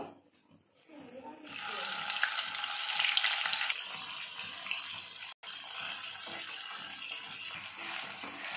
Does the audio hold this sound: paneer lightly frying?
yes